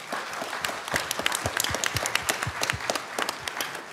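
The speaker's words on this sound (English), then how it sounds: "Let's give our panelists a big round of applause." Audience applause for conference panelists, sharp individual claps densely layered into a lively, sustained round of clapping from a modest crowd.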